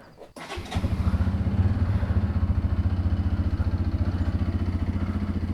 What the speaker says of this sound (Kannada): ಸೊ ಗಾಡಿ ಸ್ವಲ್ಪ ವಾರ್ಮ್ ಅಪ್ ಬಿಡೋಣ.